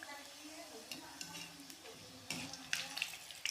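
A sugar parota fries in hot oil, crackling and sizzling up close while being stirred, with a few sharp scrapes and clinks of a utensil toward the end.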